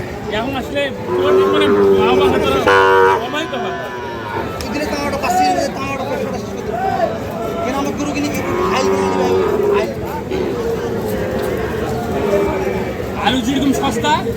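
Cattle, including Sahiwal bull calves, low now and then amid the busy murmur of a crowd at the Ambari cattle market in Dinajpur, with people talking nearby throughout.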